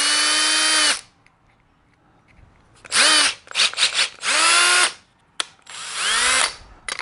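An impact driver drives a screw through a Kreg 720 Pro pocket hole jig in several loud, close bursts. The motor whines up in pitch each time, with short pauses between runs.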